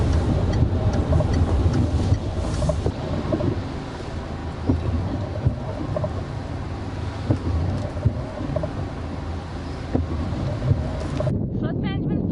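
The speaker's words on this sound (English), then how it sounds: "I must be driving through 6 to 12 inches of water here." A car driving through six to twelve inches of flood water welling up from street drains, a steady loud rushing wash with heavy wind buffeting on the microphone throughout.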